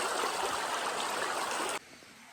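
Creek water flowing at a hiking trail crossing in Los Padres, a steady close rush of stream water that cuts off abruptly near the end, leaving a faint background.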